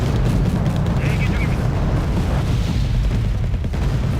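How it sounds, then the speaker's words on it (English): Deep booming artillery impacts and rumbling blasts from the real-time strategy game Wargame: Red Dragon, a 2nd Korean War campaign, steady and loud throughout with a voice talking over the barrage. "Artillery's targeting you."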